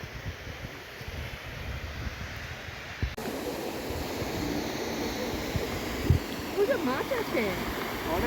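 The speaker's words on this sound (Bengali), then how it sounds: "এই হচ্ছে ফলস, ওইখান দিয়ে অল্প জল বেরোচ্ছে, এখান দিয়ে বেশি জল বেরোচ্ছে।" Water rushes over a waterfall at Ghatshila as a continuous broadband roar with some wind buffeting the microphone, and people talk faintly over it.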